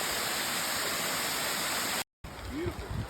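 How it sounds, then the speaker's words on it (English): A waterfall roars as a steady broadband rush, heard close by on a bike ride on a bright morning. It cuts out briefly, then returns more faintly under some light voice sounds. "But just this beautiful waterfall"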